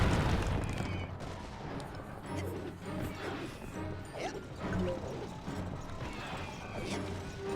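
Enemy gunfire in the video game Psychonauts, rapid popping bursts mixed with mechanical clanks and crashes over a busy game soundtrack, steady and moderately loud throughout.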